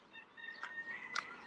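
Chickens cluck outdoors in a valley near ancient burial caves, two short sharp calls standing out over a faint background of distant bird chatter, with no one speaking.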